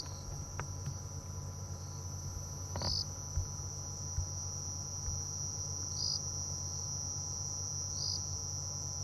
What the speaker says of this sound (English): Oh, there's a cicada that started.